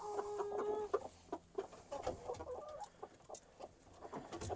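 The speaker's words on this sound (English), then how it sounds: "This is our hen that's been broody for a few weeks." A broody hen clucks softly and repeatedly in low, murmuring bursts, close by, with faint chicken chatter around it.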